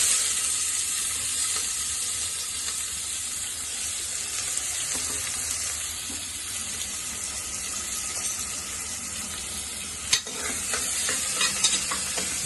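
Bay leaf and onion dropped into hot oil for egg rice, a steady close hiss of frying with occasional stirring clinks and scrapes.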